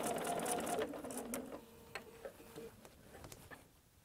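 Sewing machine stitching fabric for a case, a close, fairly quiet rapid mechanical run that slows and fades, followed by a few soft ticks and clicks.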